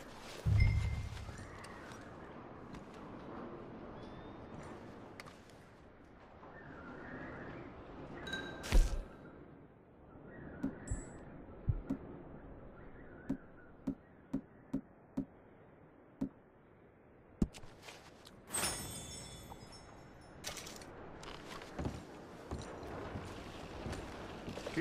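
Horse hooves clip-clop in Red Dead Redemption 2, a series of sharp, evenly spaced knocks in the middle of the clip, fairly close, with scattered thumps and shuffling around them.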